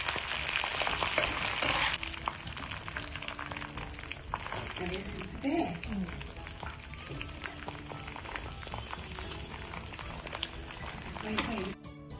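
Dry red chillies fry in oil for a tamarind pickle, a continuous crackling sizzle with scattered pops and faint background clatter throughout, no talking.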